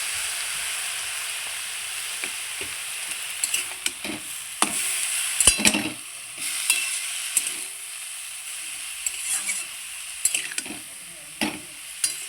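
Leafy greens (bota saag) frying in a wok, with a constant soft sizzle underneath while a spatula scrapes and stirs in irregular strokes, close up, with no talking.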